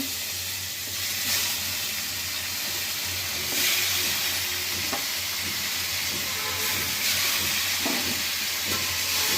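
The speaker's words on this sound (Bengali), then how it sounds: "গরম মশলা ফোড়নটা দিয়ে দিলাম, তার উপরে মাংসগুলো আমরা একটু ভেজে নেব" Meat fries in white oil with whole garam masala spices, a loud close hissing sizzle that swells and eases with occasional stirring, heard alone.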